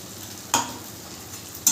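A spoon scrapes through spice paste in a pan, giving two short, sharp strokes over a faint, steady sizzle.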